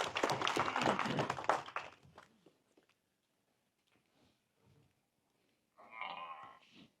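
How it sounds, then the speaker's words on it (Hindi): A crowd at a gathering claps loudly in a dense burst that fades out after about two seconds, followed by near silence and then a short stretch of speech. "तो इजाज़त जोरदार ताली बजा दी जाए।"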